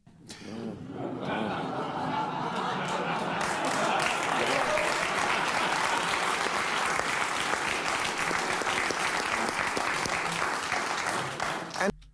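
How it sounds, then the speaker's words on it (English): A studio audience breaks into sustained applause that swells quickly and holds steady for about twelve seconds, dense clapping with scattered chuckles mixed in before it cuts off. "And they're kind of like, oh, and then they start applauding"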